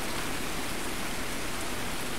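In the video game Escape from Tarkov, steady, dense rain hisses continuously at an even level, like a heavy downpour with no other sounds.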